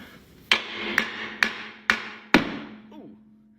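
Hammer blows on a lug nut of a 1979 Western Star truck wheel: five loud, sharp metallic strikes spaced about half a second apart, each with a ringing tail, close by.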